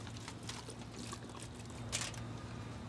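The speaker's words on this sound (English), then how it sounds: "So now we're gonna pour in some of that white wine" White wine poured over steak and potatoes at an outdoor charcoal grill, a soft continuous splashing trickle, close and faint.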